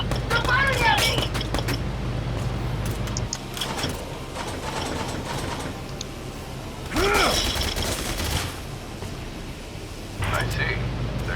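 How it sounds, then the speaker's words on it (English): Gunfire in the Valkyria Chronicles 4 video game, bursts of rapid shots and mechanical clatter over a low game rumble, with voices talking throughout. "They're firing at me!"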